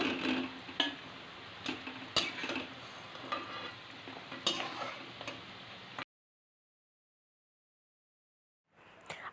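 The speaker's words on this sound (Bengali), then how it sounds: "আলুগুলো লাল লাল করে ভেজে নেব" Potatoes frying in oil in a pan, a crackling sizzle with repeated stirring clicks and scrapes for about six seconds, then silence before a brief return of sizzling.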